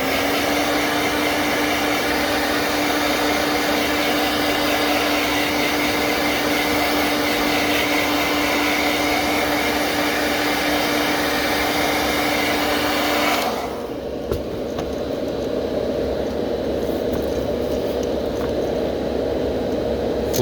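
A heat gun heat-setting paint on a fishing lure blows a steady, loud whooshing roar that runs continuously. Its tone shifts and thins about two-thirds of the way through but keeps going to the end, with no talking.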